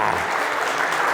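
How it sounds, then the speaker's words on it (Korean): A lecture audience at a Korean leadership talk breaks into loud, dense applause, a thick continuous roar of clapping that fills the whole moment. "박수 한번 부탁드리겠습니다."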